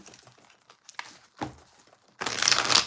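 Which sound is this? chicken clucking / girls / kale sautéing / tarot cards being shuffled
tarot cards being shuffled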